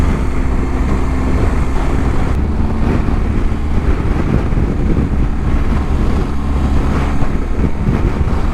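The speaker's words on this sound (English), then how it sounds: "It is super windy out." Steady, loud wind buffets the microphone during a motorcycle ride, a continuous low roar and rumble with no pauses and no voices.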